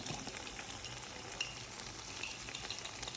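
Spiced paste toasting and frying in a pan for Iraqi kubbat jareesh, a steady close sizzle with faint crackles and occasional stirring scrapes, no voices.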